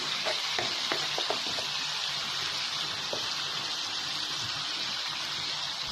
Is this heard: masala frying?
yes